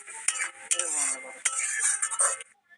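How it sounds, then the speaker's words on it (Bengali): Spice paste for a jackfruit and prawn curry is stirred and sautéed in a pan, with scraping strokes and metal clinks of a spoon against the pan at close range, ending in a short quiet tail. "দিয়ে আবার ভালো করে কষিয়ে নেব।"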